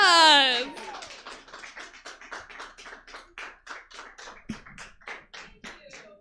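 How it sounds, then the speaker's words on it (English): A crowd claps steadily in a rapid, continuous patter of many hands, fairly close, following a brief shout at the start. "give me a round of applause"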